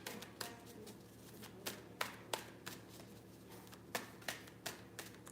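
A deck of cards being shuffled by hand, a run of quick crisp riffles and taps recurring at an uneven rhythm, close and fairly quiet with no talking.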